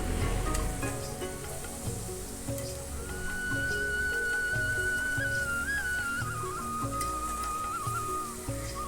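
Masala for a katla fish curry, made with charred onion, chili, garlic and tomato, fries in hot oil with a steady, dense sizzle. A thin whistling tone drifts in over the middle stretch, and no one speaks.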